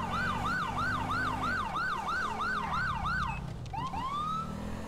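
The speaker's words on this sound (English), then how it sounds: "We gotta take our sirens out now" A police car siren in GTA 5 wails in fast repeating up-and-down sweeps. It then drops into a few slower rising whoops, loud and close over a low engine rumble.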